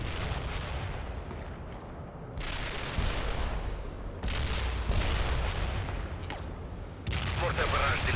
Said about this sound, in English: Firing mortars. The barrage will reach you soon.